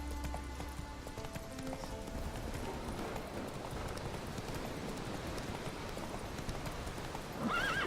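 Roach, a horse in The Witcher 3: Wild Hunt, gallops with quick, rhythmic hoofbeats on the ground, close and continuous, and a brief whinny at the very end, with no talking.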